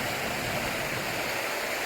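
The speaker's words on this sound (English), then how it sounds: "This little river." A small Highland river flows through a glen, giving a steady, close rushing and babbling wash of water with no other sounds.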